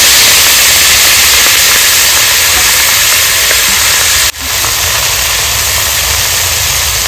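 Black cumin, green chili and chopped greens sizzle in hot oil, a loud steady hiss that dips briefly with a sharp break partway, then continues evenly.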